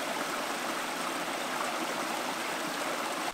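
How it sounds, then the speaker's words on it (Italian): Waterfall Sa Spendula in Sardinia, a steady broadband rush of falling water close by, continuous and loud without a break, with no voices. "Stiamo cercando di raggiungere la cascata che è proprio lì dietro"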